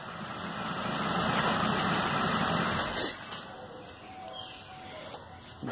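A Chevrolet Spin engine starts and idles with a steady low hum, heard during a charging and electrical fault test. A brief bump in the sound comes partway through before the idle settles.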